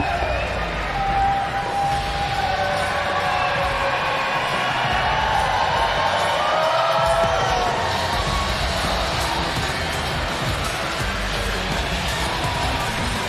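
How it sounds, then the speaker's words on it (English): A crowd cheers steadily at a professional timber sports championship while a t-shirt cannon is fired into the stands, the roar continuous and fairly loud throughout, with a whistle-like tone rising briefly above it. "Keep cheering."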